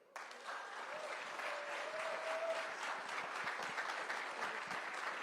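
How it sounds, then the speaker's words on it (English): Audience applause at a clean energy town hall with Energy Secretary Jennifer Granholm. A steady, sustained round of clapping from a large indoor crowd starts abruptly and holds even throughout, with a brief voice audible early on. "Let's give her another big round of applause."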